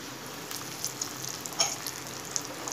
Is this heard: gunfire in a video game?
no